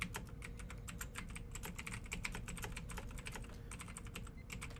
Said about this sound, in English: It's not covering the typing.